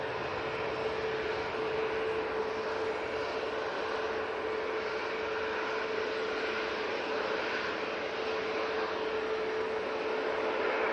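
Etihad Airbus A320neo departing Manchester Airport, a sustained broadband jet roar with a steady mid-pitched engine whine running underneath, even in loudness from start to finish.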